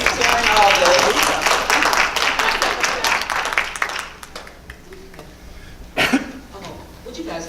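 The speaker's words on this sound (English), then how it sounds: "Round of applause for doing all this." A round of applause at a community revitalization program meeting: a room of people clapping loudly and densely for about four seconds, then quickly thinning to a few scattered claps, a faint murmur and a brief noise near the end.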